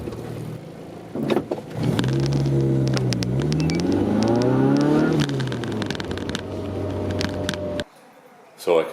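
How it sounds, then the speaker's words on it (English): Car engine fitted with a freshly rebuilt Weber 32/36 carburettor revving up strongly, the pitch rising and falling smoothly across a few seconds before dropping back, close and fairly loud with a brief lull near the end. "Revs a little bit harder, really responsive, really smooth, sounds great."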